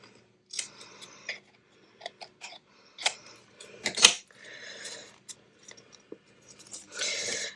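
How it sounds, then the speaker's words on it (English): Scissors cut paper for an altered file folder, giving a series of short, close snips and rustles separated by brief pauses. "I'm just going to cut these a little bit more, just so that it lets it fold better."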